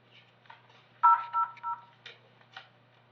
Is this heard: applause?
no